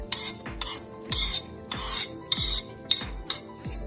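A spoon stirs yogurt, ground green chilli and spices in a metal pot, with repeated scraping clinks at an even, quick rhythm, each stroke ending in a dull knock against the pan, close and clear.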